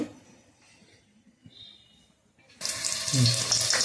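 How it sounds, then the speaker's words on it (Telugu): Chopped onions and green chillies drop into hot cooking oil for a Telugu-style broad beans and tomato curry, setting off a sudden loud, continuous sizzle after a quiet start. "ఇదిగోండి ఆయిల్ అయితే కాగింది వేస్తున్నాను ఉల్లిపాయలు పచ్చిమిరపకాయలు"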